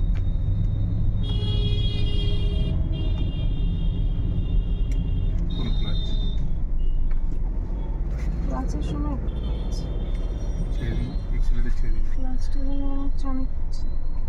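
A car moves along a busy road with an instructor at the controls, a steady engine and traffic rumble throughout with scattered horns and beeps, under ongoing conversation.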